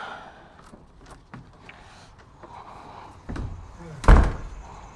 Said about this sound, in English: That door slam was too loud in my headphones.